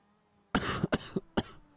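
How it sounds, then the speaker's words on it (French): A person coughs several times in short, sharp bursts close by, against a quiet background. "Excuse-moi si je tousse un peu."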